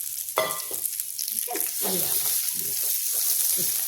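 Pointed gourd pieces drop into hot oil with roasted cumin in a home kitchen, setting off a loud, close sizzle and crackle that carries on steadily, with stirring clatter and brief bursts near the start.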